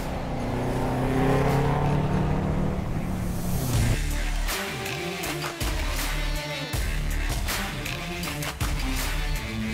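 A 2004 Subaru WRX STI driving and accelerating, its engine note rising and revving with gear changes and wind rush, heard from inside the car at a steady, fairly loud level.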